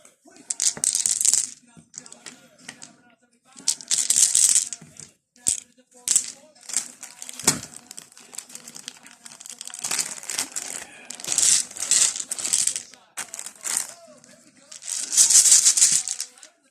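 Plastic order dice are poured into a Warlord Games dice bag in repeated bursts of clattering rattle, separated by short quiet gaps.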